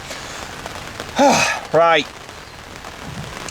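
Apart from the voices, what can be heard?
heavy rain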